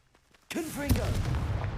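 A Confringo blasting spell goes off in a magic video game, bursting from near-silence into a sudden loud blast with a rumbling low tail and swooping tonal effects.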